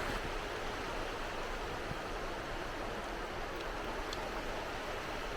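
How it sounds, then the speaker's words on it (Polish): Steady broadband rush of a river flowing toward a huge waterfall, heard on an evening hike to Langfoss near Sandvasshytta; an even, continuous water roar with no pauses and no voices. "ta właśnie rzeka płynie do tego wodospadu olbrzymiego"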